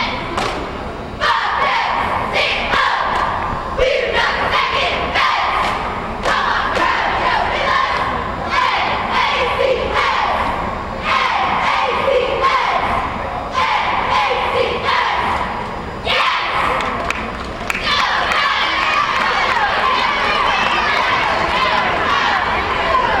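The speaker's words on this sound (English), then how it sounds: "Varsity cheer squad from Northern Adirondack once again on the floor." Varsity cheer squad performing on a high school basketball court during a timeout, with rhythmic thumps, stomps and group shouts echoing through a gym over a noisy crowd, plus a voice talking over it.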